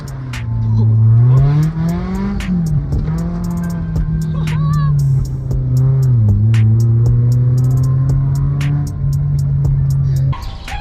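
A BMW engine held at high revs while drifting on a street, with a loud, sustained droning exhaust note that rises and dips as the throttle changes, plus faint tire noise, ending abruptly.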